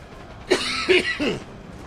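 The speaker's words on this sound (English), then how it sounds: "I need to cough." Three short, close coughs in quick succession, dry and throaty, with quiet room noise between them.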